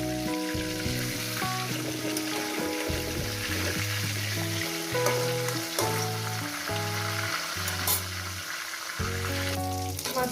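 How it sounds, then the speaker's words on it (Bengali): Fish heads fry in hot oil in a home kitchen for a Bengali chachchari, giving a steady, close sizzle that runs unbroken throughout, with tonal background sounds layered over it. "মাছের মাথাটা আমার ভাজা হয়ে গেছে,"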